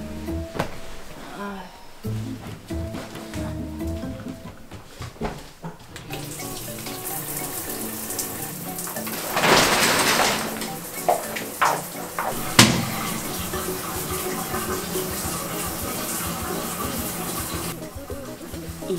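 A child washing at a running tap: water streams steadily from the faucet into a sink, with a few louder splashes and clatters partway through, fairly close and moderate in level.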